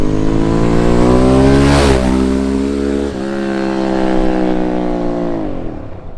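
A Ducati 998 motorcycle engine revs loud and close, a deep harmonic roar climbing and dropping twice in quick blips before settling into a steady rumble.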